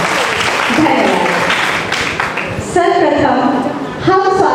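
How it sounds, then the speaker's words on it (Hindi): An audience applauds to welcome a guest at a Hindi theatre event staging three short plays. The clapping is dense and steady, with a voice talking over it and then carrying on as the applause continues beneath her. "एक बार जोरदार तालियों के साथ उनका स्वागत किया।"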